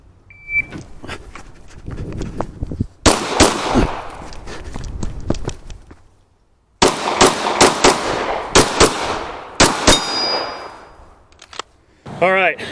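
Bursts of close, loud gunfire at a shooting test, several quick strings of sharp shots with short pauses between them and brief talk.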